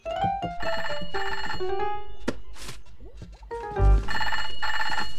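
A cartoon telephone rings in bright, repeated bursts with a short pause between them, loud and close, followed by a thunk and a few playful musical effects.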